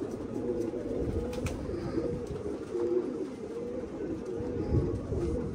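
Red pigeons coo in a steady low murmur close by, several birds overlapping throughout with a soft rumble beneath.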